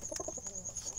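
Cooing of a black Jalali wild pigeon, a soft repeated series of low coos up close over a steady high background hiss.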